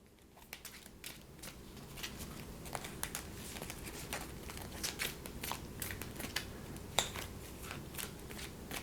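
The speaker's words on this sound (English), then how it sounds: "And then I'll shuffle her deck some." Cards from a Marvel Champions LCG deck are shuffled over and over, a dense run of soft riffling clicks and flutters at close range, with no talking.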